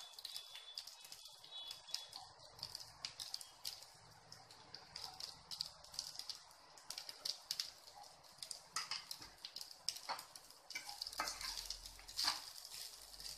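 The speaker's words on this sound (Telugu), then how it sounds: "ఇప్పుడు రైస్ వేసుకున్న తర్వాత కొద్దిసేపు బాగా కలుపుకుంటూ రైస్ని ఫ్రై చేసుకోవాలి." Cumin rice is stirred and fried in a pan with salt over a medium flame, giving a steady close sizzle broken by repeated scraping and stirring strokes, with no talking.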